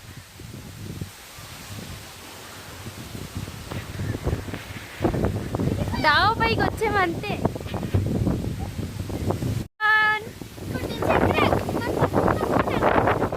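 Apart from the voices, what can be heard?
strong storm wind on rooftop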